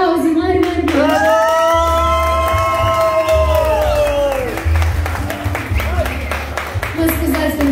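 Clapping and cheers rise from a lively crowd while a voice sings a sustained note over steady background music.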